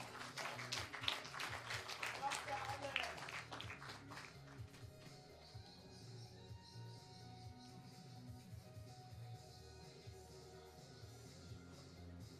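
Spectators clap for Ukraine's junior skeet shooting team as the team takes its first shots at station 4; a burst of fairly close applause fades after a few seconds into quieter background noise.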